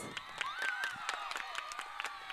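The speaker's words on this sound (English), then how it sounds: "Yes, give them a big round of applause." Scattered claps ring out for teachers at a school sports meet, uneven and fairly close, with a thin whistle-like tone running briefly through the middle.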